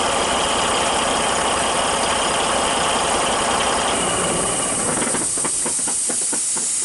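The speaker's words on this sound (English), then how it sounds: "shut the truck off and listen for air leaks." Steady loud air hissing leaks from a heavy-duty truck's air brake system with the engine shut off, a continuous close hiss that turns into rapid pulsing near the end, with no talking.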